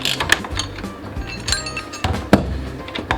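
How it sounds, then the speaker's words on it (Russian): Ratchet with a T40 bit backing out the strut of an Opel Astra H during a top-mount and bearing replacement, giving a series of close mechanical clicks and metallic clinks with a sharper knock near the end. "трещоткой выводим стойку"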